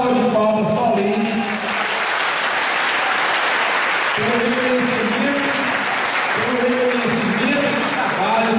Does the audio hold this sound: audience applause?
yes